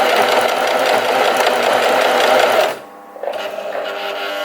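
A basic sewing machine stitching a T-shirt sleeve, a fast, steady mechanical whir that stops briefly and then starts up again, close and clear with no voices.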